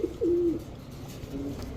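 A white Bombay pigeon gives a short, close coo, followed by a fainter murmur in a quiet room.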